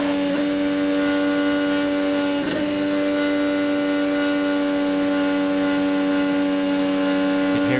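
An IndyCar engine under throttle at Pocono holds a steady, sustained high-pitched whine with a brief wavering swell near the middle, loud and unbroken, with no voices.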